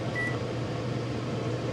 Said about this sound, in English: Let's see if we can run the microwave.